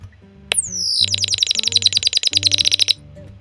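A vintage Chirp-ee electric chirping bird Christmas ornament gives a rapid run of bright, closely spaced mechanical tweets after a rising whistle, loud and close, with no talk.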